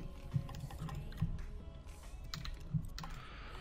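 In Minecraft, a computer mouse clicks while quartz blocks are placed: a few faint, evenly spaced clicks sit under soft game ambience.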